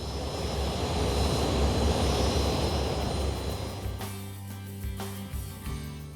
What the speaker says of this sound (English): When you hear these turbines spool up and see the heat coming out of them